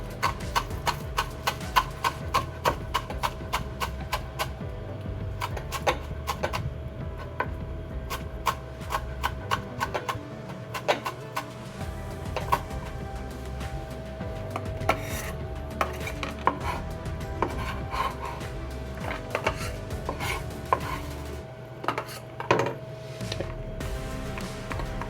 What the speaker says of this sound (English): Just chop them up. Careful to do your fingers like so when cutting